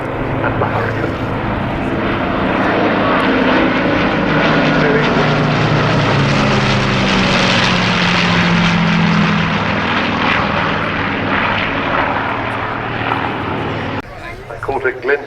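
A Lancaster, a Spitfire and a Hurricane pass overhead at the Cosford Airshow, their propeller engines a loud sustained drone that swells and fades, with a voice talking over it.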